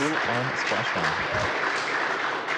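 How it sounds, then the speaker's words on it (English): Applause and cheering fill the room after a SpaceX Crew Dragon capsule, Resilience, splashes down at the end of the Crew-1 mission, a steady dense clatter of clapping mixed with voices. "I don't know if you can hear the applause,"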